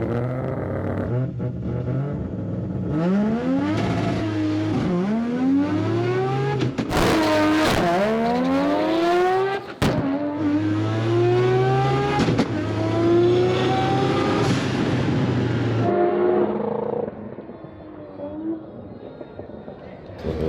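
Race car making a test pass down a drag strip: a loud engine revving up through rising gear sweeps, with shift breaks along the way, then easing off near the end. Heard close and alone.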